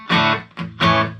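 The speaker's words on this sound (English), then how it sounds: "That's a better clean tone than my Fender Mustang LT" Electric guitar played with a clean tone through an amp, three loud, ringing notes or chords in quick succession, each struck sharply and sustaining briefly.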